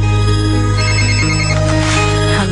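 A telephone rings loudly and steadily with a repeating electronic ringtone that fills the whole moment, with no talking.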